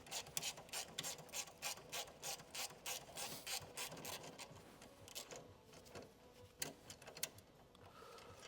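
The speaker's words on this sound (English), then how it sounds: "now I can finally also get this bolt off" A ratchet wrench clicks rapidly while loosening a bolt during the teardown of a Mitsubishi Lancer Evo X, bursts of close, even ratcheting with brief pauses and a few clunks near the end.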